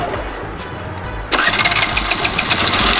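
A scooter engine cranks with a short whir, then catches and settles into a steady, close-up running hum during riding practice.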